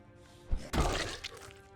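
Glass shatters in the Project Zomboid survival game, a sharp crash with a brief thud just before it, followed by a short trailing clatter of debris, fairly close and alone without talk.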